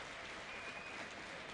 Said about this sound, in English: Gets a rousing round of applause.